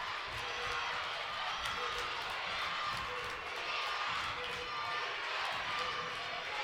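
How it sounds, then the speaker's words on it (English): Loud crowd roaring steadily through a girls high school basketball game between Mary Louis and Monsignor Scanlan, with squeaking sneakers and bouncing balls beneath, and an announcer talking over it. "Crowd's loud."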